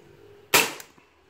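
A Tokarev SR-33 SRC gas blowback airsoft pistol fires a single close, sharp shot with a hissing gas burst that fades quickly, followed by a faint click.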